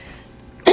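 A single short cough bursts out near the end, close and loud, from a speaker in the middle of a formal address.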